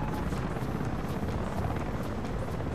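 A helicopter in the online shooter Battlefield Play4free drones with a dense, continuous rotor beat, loud and close, holding steady with no speech.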